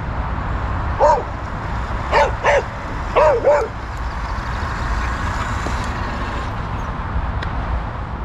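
Several dogs bark in short bursts, three clusters of yips and bow-wows close by over a steady rumbling background, the barking stopping after a few seconds.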